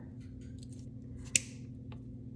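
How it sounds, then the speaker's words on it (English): A single crisp snip of scissors cutting fishing line on a woven beaded bracelet, one short sharp cut over a low steady hum, with no talking. "And then you can trim off the fishing line here"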